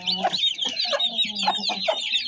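A hen with six chicks clucking close by, a run of short throaty clucks in uneven rhythm, with faint chirping from the chicks mixed in.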